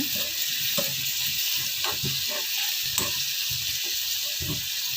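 Herbal hair-oil paste sizzling steadily in oil over low heat, with a continuous bright frying hiss and soft scraping strokes of a spoon stirring the pan at an irregular pace.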